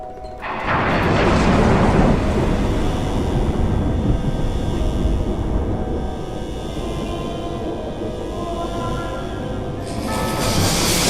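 A loud, long thunder rumble plays as a sound effect in the Tower of Terror pre-show at Walt Disney World, swelling quickly and rolling on heavily for several seconds before easing.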